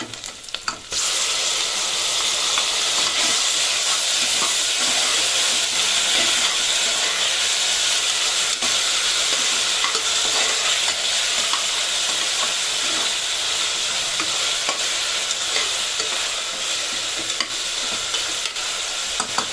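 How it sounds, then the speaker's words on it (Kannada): Onions frying for Salem-style chicken curry, just before tomato is added, give a loud, steady, continuous sizzle and hiss with stirring, uninterrupted and without any talking. "ನೋಡಿ ಇಷ್ಟು ಫ್ರೈ ಆಗಿದೆ. ಈಗ ನಾವು ಇದಕ್ಕೆ ಟೊಮೆಟೊ ಹಾಕೋಣ."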